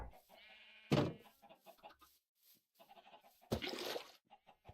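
Sheep bleating in the Minecraft video game, two loud bursts standing out over a faint, quiet background with no talk.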